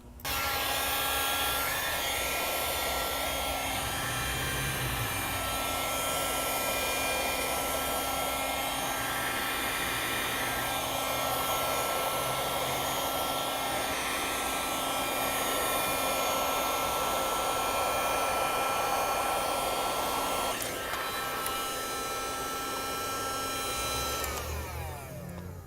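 A heat gun blows continuously up close while warming a plastic connector on a 1960 Chevy Biscayne during an LS swap, a steady loud airy whoosh with slight shifts as it moves around, no talking.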